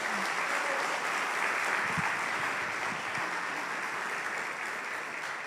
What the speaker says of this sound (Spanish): ¿Y por qué no le das un aplauso más fuerte al Rey de Reyes?